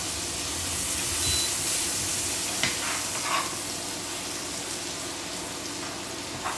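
Meatballs sizzle steadily in melting butter in a frying pan, a continuous close crackle and hiss with a few brief scraping bumps as they are rolled around.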